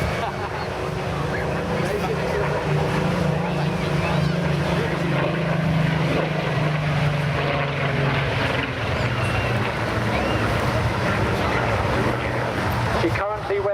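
A Spitfire PR19 fitted with a Griffon 58 engine flies at the Sunderland International Airshow, its deep, steady propeller drone sustained throughout at moderate distance, with a commentator talking over it.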